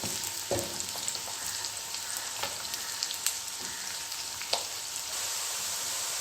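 Onions sizzle steadily in hot oil in a pan while being browned for mutton pulao, a continuous close frying hiss broken by a few light stirring scrapes and taps, with no voices.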